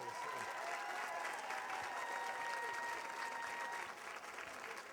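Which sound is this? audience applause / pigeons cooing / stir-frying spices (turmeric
audience applause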